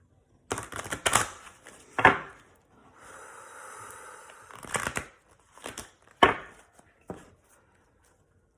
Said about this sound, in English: I don't like to shuffle the cards this way